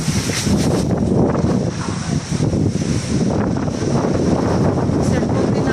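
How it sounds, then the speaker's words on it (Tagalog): Strong wind buffets the microphone in loud, continuous gusts, a dense roar with rumbling low-end bursts, while a person's voice speaks faintly beneath it. "Papasok na tayo at sobrang hangin, baka matumba tayo dito."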